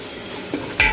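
Anchovies fry in a pan with a close, brief hiss, broken by a short scrape and a sharper stirring clatter near the end.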